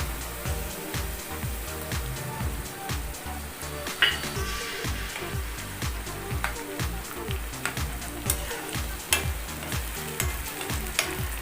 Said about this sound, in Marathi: आता मी टोमॅटो प्युरी टाकते.